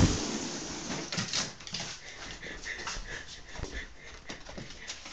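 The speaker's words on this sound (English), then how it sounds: "how the Jack Russell goes crazy over balloon" A Jack Russell terrier worked up over a balloon whimpers and yips in short, excited bursts, fairly close and without talk.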